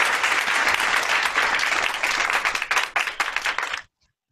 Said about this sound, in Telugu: స్టైలీ అండ్ మిలోనికి క్లాప్స్ కొడదాం మరి